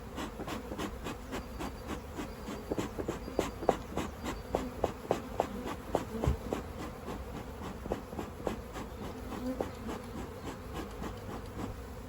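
Honeybees from a captured swarm buzz steadily around a hive, a continuous droning hum with many close wingbeat flickers and faint rubbing or tapping, no voices present.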